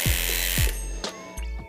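A Foredom rotary tool spins at its top speed of 35,000 RPM, a high steady whine broken by short bursts and clicks of the handpiece starting and touching the work, loud and close with no talk.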